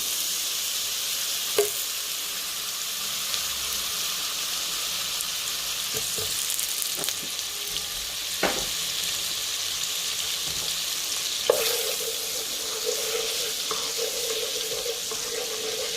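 Butter melts in a hot pan for a lasagna sauce, giving a steady, even sizzling hiss throughout with a few faint clicks and taps of utensils, and no voices.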